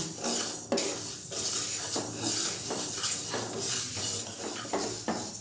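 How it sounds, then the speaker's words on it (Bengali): Moong dal being stirred and dry-roasted in a wok over a gas flame for bhuna khichuri, with a steady scraping clatter of spatula against metal and repeated sharp knocks, close and continuous with no talking. "মুগের ডালটা আমি হালকা একটু নেড়ে চেড়ে ভেজে নেব।"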